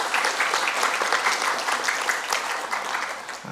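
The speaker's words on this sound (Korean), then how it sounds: "박수로 환영해 주시면 감사하겠습니다" A church congregation applauds to welcome visiting guests during a service, with a steady, even wash of many hands clapping that continues throughout and eases slightly at the end.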